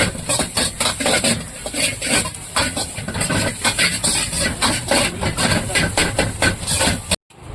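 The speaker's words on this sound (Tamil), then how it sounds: "சேர்த்துக்கிட்டு நல்லா வதக்கி விட்டுருவோம் நல்லா கோஸ் நல்லா வதங்கி வரட்டும்" Cabbage stir-fried in a pan for a roadside-stall style dish, with loud rhythmic scraping and rustling as a spatula tosses it repeatedly, close and continuous, stopping abruptly at the end.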